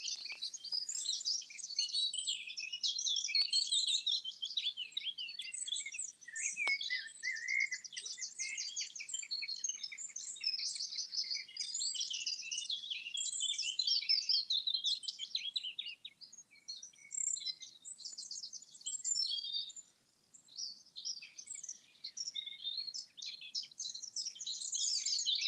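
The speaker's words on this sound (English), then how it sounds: "As long as I can hear the birds," Songbirds chirp and trill continuously near a 13th-century church and cemetery, a dense, lively chorus of high calls filling the air from close by, with no talking.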